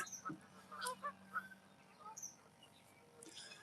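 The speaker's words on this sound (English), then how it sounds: "Looks like the geese have calmed down a little bit." Geese honking faintly in the distance during an outdoor fishing session, scattered single and double calls over quiet background hiss.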